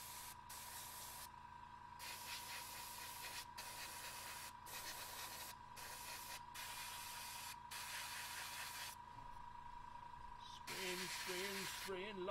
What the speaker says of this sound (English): Spraying lots of red.